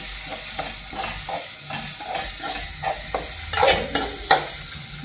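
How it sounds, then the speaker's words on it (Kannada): Spices tempering for poha sizzle steadily in a pan on a new stove, with repeated stirring scrapes and louder crackling bursts toward the end, with no talk. "ಹೊಸ ಒಲಿ ಮ್ಯಾಗ ನಮ್ಮ ತಂಗಿ ಅವಲಕ್ಕಿ ಮಾಡಕ್ಕೆ ಒಗ್ಗರಣೆ ಹಾಕಕ್ಕಂತ ಒಲಿ ಮ್ಯಾಗ"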